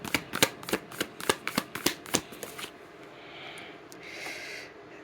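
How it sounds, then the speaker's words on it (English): A deck of Work Your Light oracle cards being shuffled by hand, a rapid run of crisp riffling snaps up close that gives way to a softer, steady shuffling hiss. "So we're going to pull some Work Your Light cards."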